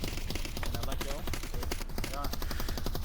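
A light machine gun fires in a Modern Warfare video game, sending rapid bursts of close automatic shots under and between excited talking.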